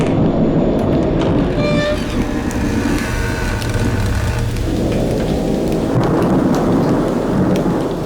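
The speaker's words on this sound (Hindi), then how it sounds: "मैं इस भयानक तूफान में बुरी तरह फंस गया हूँ।" A violent night thunderstorm with heavy rain pouring steadily and loud rolling thunder rumbling throughout, close and dense.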